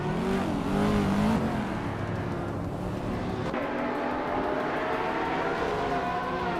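Engines of a 2005 Radical SR8 race car in a racing video game, a steady, loud, droning engine roar that shifts pitch near the start and again midway, running continuously with no talk.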